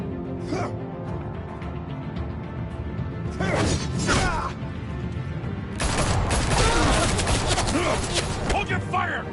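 Bursts of gunfire in the Batman Telltale video game, with two short volleys and then a longer, heavier fusillade of crackling shots over a steady game soundtrack.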